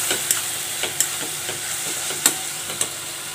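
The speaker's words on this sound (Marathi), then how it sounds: "चांगलं परतून घ्यायचं आहे इथं मसाल्यांमध्ये." Cucumber being sautéed and stirred in a spice masala in a pan, with a soft continuous sizzle and scattered sharp clicks of a spoon scraping the pan, close and steady, no talking.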